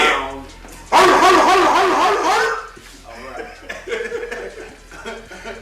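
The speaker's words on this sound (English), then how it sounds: "The dog sound." A dog barks loudly and close in a burst of yappy bow-wows, followed by quieter yips mixed with chuckling laughter and talk.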